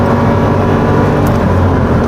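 A Hyundai Casper 1.0 turbo, a 100-horsepower light car with a four-speed automatic, accelerates on the road, its engine hum loud and steady from inside the cabin.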